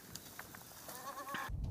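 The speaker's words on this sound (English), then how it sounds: "So we have about 15 exotic breeds of goats and 20 local breeds of goats." Short goat bleat with a wavering tone on a farm in Wajir, near and clear over low background rumble, lasting under a second.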